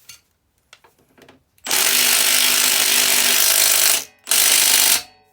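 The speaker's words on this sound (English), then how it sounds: "And then tighter with the impact" An impact wrench tightens a nut on a 2007 Yamaha Banshee YFZ350 ATV: a few faint clicks, then two loud, close, rattling hammering bursts of about two and a half seconds and one second.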